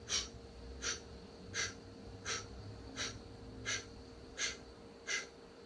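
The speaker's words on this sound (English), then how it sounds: "Exhale in 8 parts." Breath pushed out in eight short, evenly spaced bursts during a meditation exercise, each one a soft, close, airy puff over a quiet room hum.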